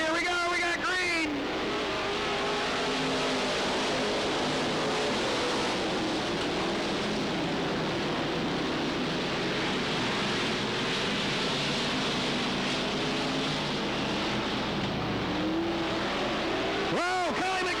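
Race cars roar around the dirt oval at Cottage Grove Speedway during the 1991 Fall Classic, a loud, continuous wall of engine noise with cars sweeping past. A commentator speaks over the engines.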